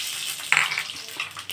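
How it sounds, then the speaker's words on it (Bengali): Panch phoron hits hot mustard oil in a wok with a sudden bright sizzle that fades into a softer crackle, close by and alone, with a light stir near the end. "আমি দেখুন কড়াইতে এবারে 5 ফোড়নটা দিয়ে"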